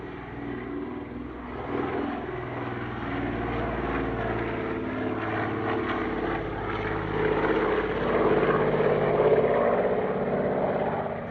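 A Caribou twin-engine propeller aircraft, a short takeoff and landing military transport, flies past at an airshow, its droning engines steady and loud throughout, swelling slightly toward the end.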